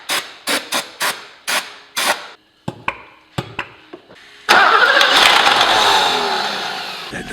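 A series of sharp mechanical clacks and starter-like knocks as a car engine primed with carb cleaner cranks, then a loud rough burst of engine noise that roars and slowly fades.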